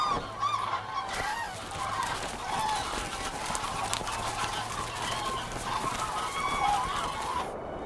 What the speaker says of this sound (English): With all this noise, the geese prefer to stay aloof, but the cranes like the noise.